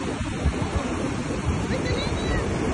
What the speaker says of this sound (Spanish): Pero está fuerte el mar, está muy muy bravo.